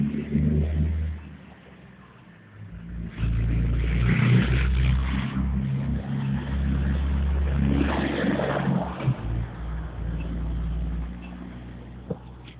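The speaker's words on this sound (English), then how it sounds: "Pause, there's a truck." A truck passing by: a deep, loud rumble swells in after a quieter opening and stays close and heavy for several seconds before easing slightly, with no voices.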